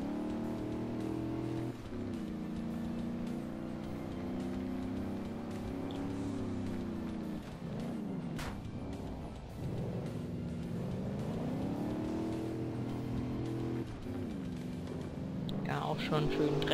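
A stretch limousine drives through a quarry in the Alarm für Cobra 11 racing game, its engine droning steadily with rising and falling revs, with someone talking in German throughout.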